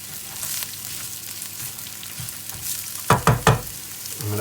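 Onions sizzling as they begin to sauté in a pan for shakshuka, a steady bubbling fry with a burst of louder clattering stirs near the end.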